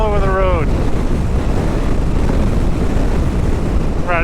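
Strong gusting wind roars and buffets a microphone on a moving KLR 650 motorcycle, a loud, constant, broadband rush; a voice briefly speaks at the start and end.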